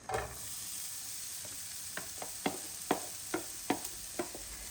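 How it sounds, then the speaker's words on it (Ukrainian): Chopped onions sizzle steadily in a pan with a spoonful of oil while a utensil scrapes and stirs in a string of sharp, irregular strokes, close and fairly quiet. "і смажу майже до золотистого кольору, помішуючи"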